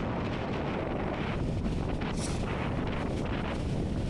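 Sea waves splash against a seafront wall in strong January wind, a steady broadband roar with heavy wind buffeting the microphone throughout and no clear individual wave breaks standing out.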